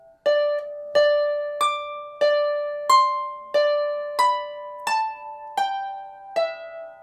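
Harp plucks a slow phrase from a tune, about ten single ringing notes evenly spaced, each decaying cleanly, close and alone.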